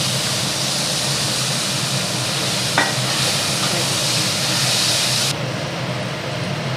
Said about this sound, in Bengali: এবার ম্যারিনেট করা মাছগুলো দিয়ে দেওয়া হচ্ছে